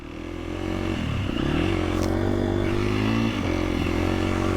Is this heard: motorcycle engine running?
yes